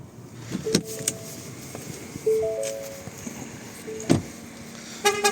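The power windows of a 2019 Ford Edge SEL 2.0 petrol AWD hum briefly several times, short motor whirs close by amid clicks of buttons and light knocks inside the cabin.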